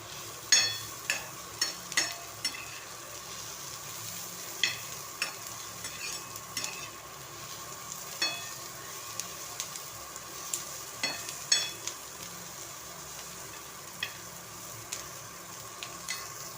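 Onions browning in a pan for a drumstick (shevga) pod vegetable dish, a steady soft sizzle broken by frequent sharp scraping and stirring clicks, close and fairly quiet, with no talking.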